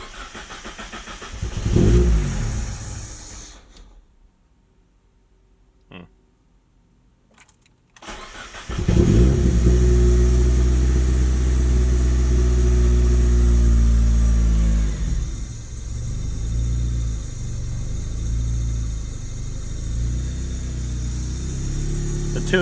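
A Mazda Miata with an aftermarket exhaust and a replaced main fuse relay cranks, falls quiet briefly, then starts and revs before settling into a loud, steady idle.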